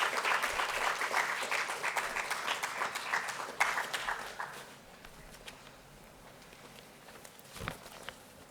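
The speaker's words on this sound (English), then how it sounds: "please welcome all our panelists with a round of applause" An audience applauds to welcome panelists at a panel discussion on antibiotic residue in animal foods. Dense, steady clapping fills the first half, then fades to scattered claps and faint shuffling.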